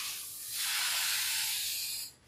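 An aerosol spray can hisses a single sustained burst of about one and a half seconds across a screen-printing screen, close and fairly loud, fading quickly at the end.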